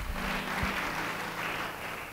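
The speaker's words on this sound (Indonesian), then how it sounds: "Yang setuju beri tepuk tangan." Congregation applause during a church sermon, a steady, dense wash of clapping from a crowd filling the whole stretch at even loudness, with a low hum underneath.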